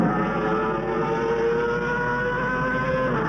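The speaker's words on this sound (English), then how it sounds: "Sound of that Honda." Mike Hailwood's Honda racing motorcycle at the Isle of Man TT howls with a continuous high-pitched engine note, loud and sustained throughout, with no talk over it.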